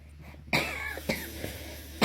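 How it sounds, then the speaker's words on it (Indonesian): A few sharp coughs, close and fairly loud, separated by short pauses, with a quiet room behind them. "mohon maaf ya saya batuk"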